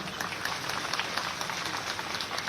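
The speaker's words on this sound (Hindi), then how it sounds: "आप सभी की जोरदार तालियां" Audience applause rings out at a School Chalo Abhiyan campaign event, a dense, even wash of many hands clapping together with no talk.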